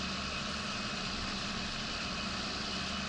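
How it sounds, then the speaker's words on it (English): A John Deere tractor engine idles in the farming video game Farming Simulator 19 on PS4, a steady, close, constant low rumble with an unbroken drone throughout. "how beautiful does this John Deere tractor look?"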